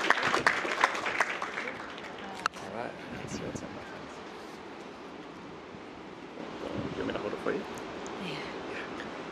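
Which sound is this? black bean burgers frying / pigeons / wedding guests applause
wedding guests applause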